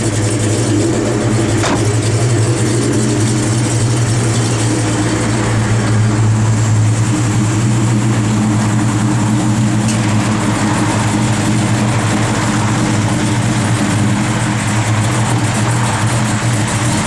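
1970 Chevrolet Chevelle SS engine running steadily, a loud, deep, rumbling idle with a constant low throb held for the whole stretch, close up with no speech.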